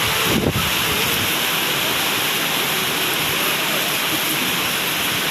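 Loud, continuous roar of big crashing ocean waves and strong wind buffeting the microphone, dense and unbroken throughout.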